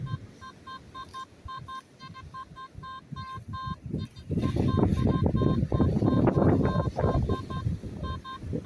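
A metal detector sounds a repeating pattern of short electronic beeps. Steady wind and handling noise run underneath and grow louder and rougher partway through.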